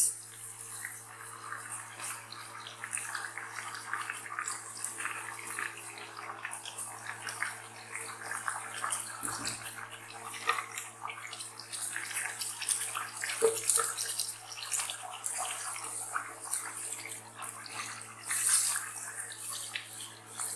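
Onion paste frying in a pan for beef karahi gives a steady, close, hissing sizzle that runs without a break. A few faint clicks sit underneath, and no one speaks.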